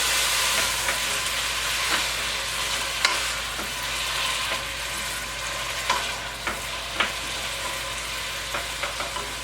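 Food frying in a pan with soy sauce, a loud close sizzle that stays steady throughout, broken by scattered sharp pops and spatters.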